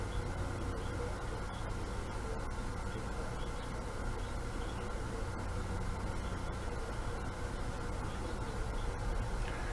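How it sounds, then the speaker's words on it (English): Amplifier cooling fans hum steadily in the background of a home kitchen, a constant broadband whir that stays even and unchanging throughout, with no talking. "Those are actually amplifier fans,"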